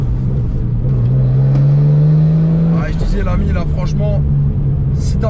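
A Nissan Skyline R33 GTST engine revs up in one smooth, rising pull and then settles into a rumbling idle. A voice talks over the loud, close engine.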